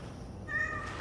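Cat meowing in the game Cronos: The New Dawn, a single short, clear meow over a low background hum.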